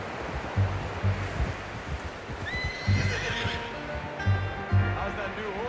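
Horse neighing and whinnying in Red Dead Redemption 2, with hoof clip-clops in a rhythmic pattern and a rising whinny midway, close and fairly loud over outdoor ambience.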